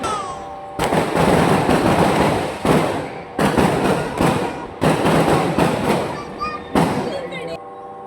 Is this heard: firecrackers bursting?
yes